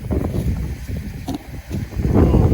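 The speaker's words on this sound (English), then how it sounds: "It's super windy. There's like 15-mile-an-hour winds right now." Strong wind of around 15 mph buffets the microphone outdoors on a cold 40-degree day, a steady low rumbling roar with gusty swells throughout and no clear talk.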